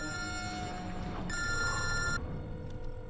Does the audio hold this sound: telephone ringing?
yes